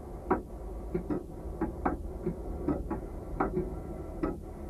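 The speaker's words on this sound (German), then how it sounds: "500 Uhren, Wanduhren, Standuhren, viele aus Europa sind hier versammelt." Antique wall clocks and grandfather clocks, hundreds of them gathered in a clock shop in Singapore, tick in a steady, overlapping rhythm of soft, close clicks with no voices.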